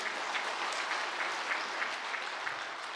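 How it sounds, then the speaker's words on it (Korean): A church congregation at a Sunday service claps together in steady, even applause, moderately loud and filling the room for a few seconds. "우리 하나님께 감사의 박수를 드릴까요?"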